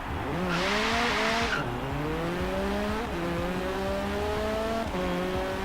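An Alfa Romeo 4C rallycross car engine in Forza Horizon 3 revs continuously at high pitch, shifting up through gears with a brief tire screech early on, loud and close with no talk.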